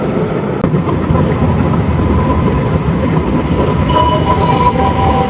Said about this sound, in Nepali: ल ट्रेन आएर कस्तो आवाज आउँछ सुन्नु होला है त।